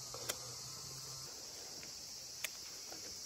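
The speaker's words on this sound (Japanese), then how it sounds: "セミがよう鳴きよ。" Cicadas drone in a hot Japanese summer vegetable garden with a steady, high, shimmering buzz, faint and continuous, broken by a few soft clicks.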